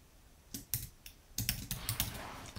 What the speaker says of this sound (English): now I'm just going to type in something real simple